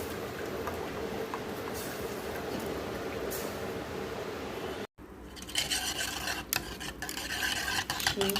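Caramel is stirred in a pan on a home stove for a pudding, a continuous scraping and rubbing close by, breaking off briefly midway and resuming with sharper, more uneven scrapes.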